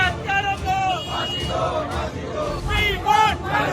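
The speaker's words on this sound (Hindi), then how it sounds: "लोगों की ये भीड़ सौरभ राजपूत के लिए इंसाफ मांग रही है" A crowd of protesters demands justice for Saurabh Rajput, a dense babble of many voices with scattered louder shouts rising and falling throughout, steady and close.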